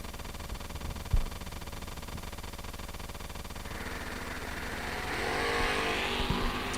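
A Chevrolet S10 drag racer launching at a Twin Fifties drag race, engine note building from a steady idle-like drone into a louder roaring run, heard from some distance.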